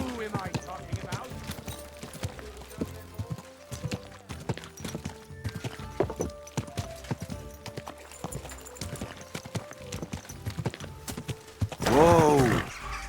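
Horse hooves clip-clopping in Kingdom Come: Deliverance 2, a steady run of hoofbeats over ground, ending in a loud whinny near the close.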